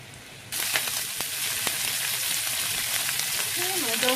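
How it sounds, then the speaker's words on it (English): Salmon fillet fries skin side down in a hot pan, a loud, steady sizzle that switches on abruptly and holds with crackling spits, close by and without speech. "I'm going to let the salmon cook on this side for just a few minutes"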